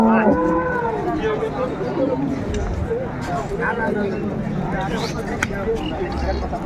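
Dairy cows and calves moo at Ambari cattle market in Dinajpur, with a loud, close moo at the start and crowd chatter continuing underneath.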